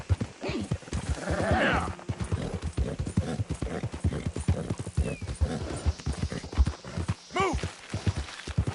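A horse gallops in Red Dead Redemption 2 with a loud, rhythmic pounding of hooves close by, and a neigh breaks in near the end. Someone speaks briefly over the hoofbeats.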